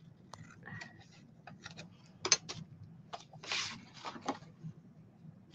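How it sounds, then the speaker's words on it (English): Scissors cut paper for an art journal with a series of short, sharp snips and crisp clicks at an irregular pace, fairly close and with no one talking. "I'm going to have to use scissors."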